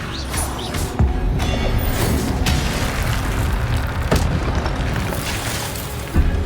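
Levioso spell cast in Hogwarts Legacy, a dense magical whoosh and rumble with a few sharp impacts over a loud, continuous game soundscape.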